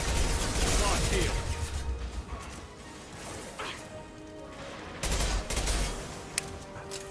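Bursts of gunfire in Mass Effect 2, loud volleys of shots with crashing impacts that come in clusters, ease off in the middle, then pick up again near the end, with a voice talking over the action.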